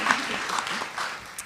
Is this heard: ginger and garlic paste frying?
no